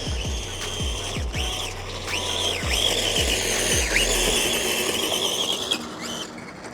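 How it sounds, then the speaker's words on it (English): An MJX 10306 Shelby GT500 Mustang Cobra RC car running on 4S drifts hard, its electric motor whining up and down in loud sweeping pitches while its tires squeal and skid in repeated bursts. "Nice, dude, just straight drifting."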